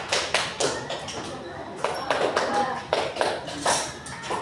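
A class of students claps in short rhythmic bursts of a few claps each, loud and close in a classroom during a teaching session, with a voice speaking between the groups.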